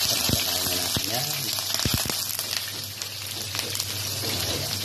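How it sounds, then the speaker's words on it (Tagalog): Onion, garlic and ginger sauté in a hot pan with a loud, continuous sizzle and hiss, occasional clatters of a utensil rising over the steady frying noise. "magigisa na tayo ng sibuyas, bawang at luya"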